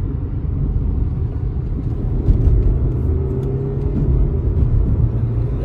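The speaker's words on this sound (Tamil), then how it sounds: "ட்ரக்கு ஓவர்டேக் பண்ணிச்சு." On a sloping mountain road near a tunnel between Abha and Makkah in Saudi Arabia, a truck overtakes the car, its low engine rumble and road roar swelling steadily under the car's own continuous drone.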